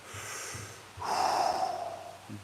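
Steady nasal breathing during a breath fitness exercise, soft airy inhales and exhales through the nose, with one longer, louder rush of air in the middle and faint low snuffles around it.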